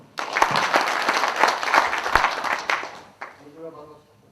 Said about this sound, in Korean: 여러분의 힘찬 그 박수를 부탁드립니다.